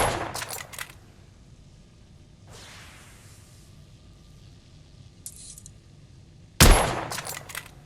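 Gunfire from a weapon in the video game The Order: 1886, with a rapid burst of sharp shots at the start and another loud burst near the end, separated by quieter whooshing and ambient noise.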